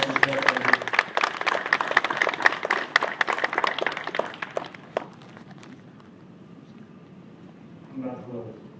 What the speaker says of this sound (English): I just want you all to give them a round of applause